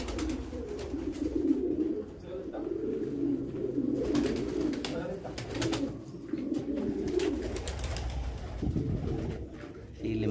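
Pigeons coo steadily at a meat pigeon farm in Damietta, with low, throaty calls rising and falling through the whole stretch and a few short clatters over the top.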